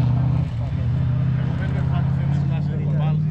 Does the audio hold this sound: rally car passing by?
yes